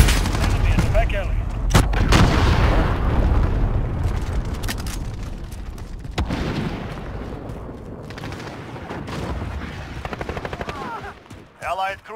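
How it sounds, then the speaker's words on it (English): Heavy explosions from an allied cruise missile strike in Call of Duty Modern Warfare on the Khandor Hideout map, loud booming rumbles followed by bursts of rapid gunfire and crackling blasts. "Allied cruise missile launched"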